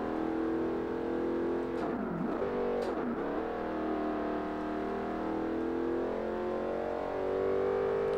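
A Pontiac GTO's engine in the video game Forza Motorsport drones steadily at Road America, with two quick rev dips and rises as it shifts gears, loud and continuous throughout.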